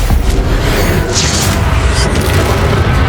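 Spell blasts explode during combat in the video game Hogwarts Legacy, a loud, dense burst of booming impacts with crackling, hissing flares layered over a continuous low rumble.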